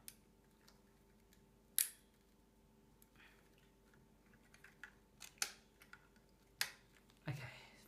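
Intel stock CPU cooler pressed into a Mini-ITX gaming PC motherboard, several sharp plastic clicks as its four push pins snap into place, close and spaced apart over faint background noise.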